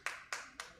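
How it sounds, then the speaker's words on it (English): Three sharp, evenly spaced claps ring out close by in a quiet committee meeting room, each a brief bright burst with a short decay. "And we'd prefer not to have any clapping."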